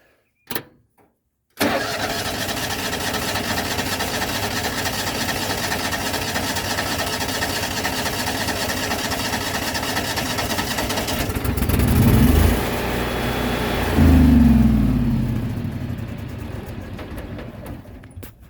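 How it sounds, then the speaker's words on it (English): An engine on a rig cranks over at length with no choke pulled, then catches and starts, after a sudden click. The cranking is loud and steady, and the idle rises into a louder run near the end. "I didn't bother pulling the choke because I wanted to spin it over for long enough for it to build oil pressure before it hit"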